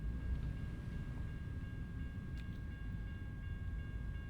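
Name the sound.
train passing in the video game American Truck Simulator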